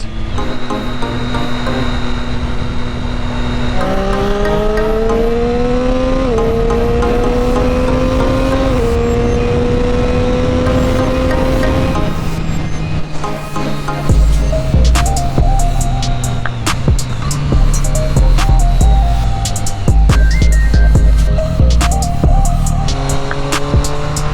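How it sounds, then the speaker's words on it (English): A Triumph Street Triple 675 motorcycle being ridden to warm it up, its engine droning loudly and steadily with rising and falling gear-change pitch steps over constant wind rumble. "I'm just going to get the bike reasonably hot"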